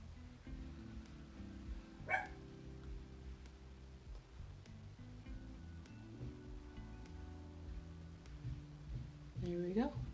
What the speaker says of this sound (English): I think my upstairs neighbors are doing something, causing my dog to like freak out.